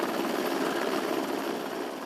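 Helicopter hovering over the sea near Hawaii during rescue training, a loud, steady rotor and engine roar with a dense, continuous texture and no talk.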